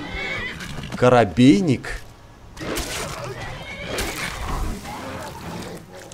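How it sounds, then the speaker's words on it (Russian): In the video game Skyrim, a horse gives two quick, close neighs near the start, followed by splashing and thudding game sounds. Someone speaks briefly over the noise. "Лошадь."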